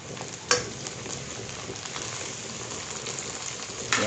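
Onions hit a pan of hot oil for a chicken and raw jackfruit curry, giving a steady frying sizzle throughout, with a sharp burst as they drop in near the start and another loud crackle at the end; no voices.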